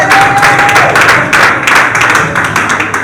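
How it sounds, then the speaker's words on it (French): A church congregation applauds during worship, a dense burst of clapping filling the space for a few seconds alongside scattered taps and crowd noise, fairly loud and close. "Applaudis pour le Seigneur."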